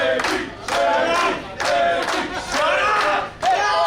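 A wrestling crowd at an intergender championship match yells and cheers in loud, rhythmic bursts, the roaring swells rising and falling several times like chanted battle cries.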